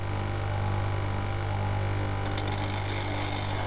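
Running bench grinder with a steady low mains-type hum, where a roughing gouge for wood turning is lowered onto the wheel, with a faint grinding texture toward the end.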